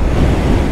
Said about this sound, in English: It is nice and windy.